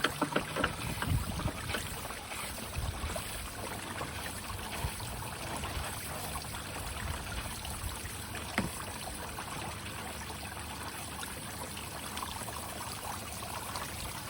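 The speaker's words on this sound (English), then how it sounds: "It tells that there's enough water in the system. That's flowing nicely." Water drains steadily and noisily from an air conditioner drain during servicing, a continuous close splashing flow with no pauses.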